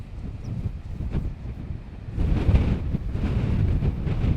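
Wind gusts across the cold coast at Point Reyes, California, a low rumbling roar buffeting the microphone, easing at first and then strengthening into a steadier, louder blow with a faint wash of surf beneath.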